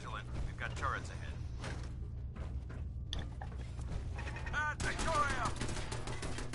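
Turret gunfire and mechanical clatter in Fallout 4, heard as scattered rapid bursts and whirring mechanisms at moderate level, with game voices speaking over parts of it.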